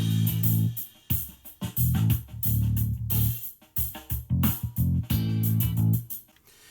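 A Korg Pa5x arranger keyboard plays a chord sequence over its style accompaniment on Variation 1, with rhythmic drums and sustained bass-heavy chords pulsing loudly in short phrases.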